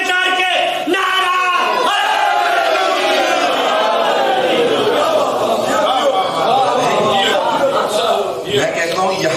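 A large crowd at an Eid-e-Ghadeer religious gathering chants a slogan in unison, a loud, continuous roar of many voices with a shouted battle-cry quality.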